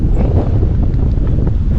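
Strong wind buffets the microphone on a steep mountain trail in Sibuyan, Romblon, a loud continuous low rumble with gusty fluctuations and no talking.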